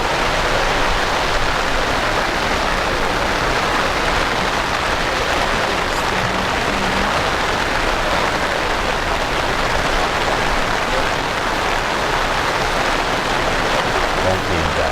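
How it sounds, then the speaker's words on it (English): Rain falling steadily at an outdoor high school track meet, a dense, loud, unbroken hiss that holds evenly throughout, with no distinct voices standing out. "Now it's starting to rain."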